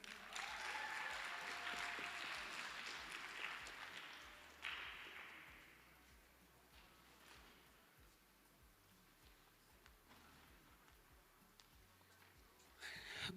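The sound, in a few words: audience applause for Dr. Nomasoni Murule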